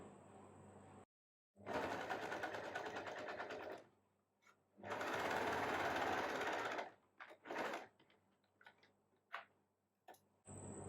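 A sewing machine stitches a blouse hook strip in several bursts of rapid, close mechanical whirring, separated by short pauses and light clicks as the fabric is repositioned.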